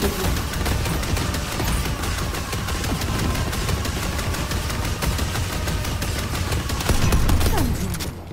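Sustained rapid turret fire in the game Deadlock, a steady loud rattle of repeated shots running throughout with small impacts, no talking.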